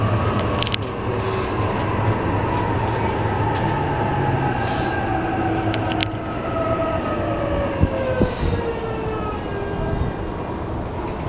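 E233 series 3000 commuter train on the Shonan-Shinjuku Line at Musashi-Kosugi station, rumbling steadily past the platform with a sustained motor whine, brake squeals and clanks, loud and close throughout.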